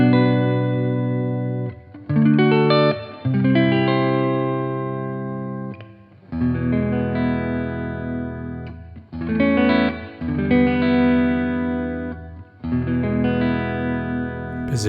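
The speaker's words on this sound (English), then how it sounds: "I'll play some chords and single style notes, clean with some reverb across 3 selector positions" A Knoxville Select T-Style electric guitar on the neck pickup plays clean chords and single notes with reverb, ringing phrases separated by short pauses, close and alone.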